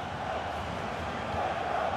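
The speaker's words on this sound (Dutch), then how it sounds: "Het publiek begint te fluiten." Stadium crowd in the FIFA 16 football game, Germany versus Spain, a dense, continuous roar of whistling and jeering fans heard from a distance, with no clear voices.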